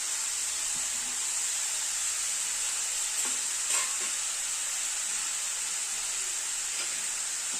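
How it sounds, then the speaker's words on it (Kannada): Grated bottle gourd fries in ghee for a halwa, giving a steady, even sizzle with occasional soft stirring scrapes and faint clinks, close and continuous with no talking. "ಸೋರೆಕಾಯಿ ಫ್ರೈ ಮಾಡ್ಕೋಬೇಕು."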